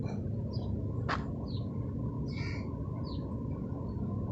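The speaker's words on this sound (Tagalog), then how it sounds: "Yan, oh. Mga uwak." Crows call outdoors in Khobar, Saudi Arabia, against a steady low rumble, with short scattered cries and one sharp chirp early on.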